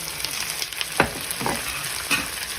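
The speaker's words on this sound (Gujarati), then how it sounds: "હવે ટામેટા અને ડુંગળીને આપણે સારી રીતના સાંતળી લઈશું." Tomatoes and onions sautéing in a kadai for chole, a continuous frying sizzle broken by a few distinct spatula scrapes and knocks, close by with no voices.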